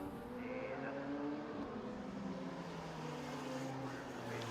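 Onboard engine roar of a race car at Brands Hatch during a club race, steady and loud throughout with shifting engine pitch through Paddock Hill Bend, no pauses.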